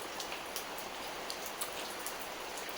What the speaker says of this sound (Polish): Deszcz coraz cieplejszy.